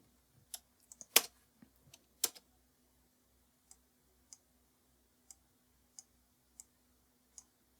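Computer keyboard keys pressed while working in After Effects, a few quick clustered clicks followed by single, evenly spaced taps, faint and close in a quiet room.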